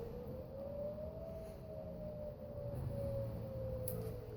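Civil defense sirens wail steadily in the distance, a long sustained rising and falling tone running through the whole stretch under low background noise, with no talking.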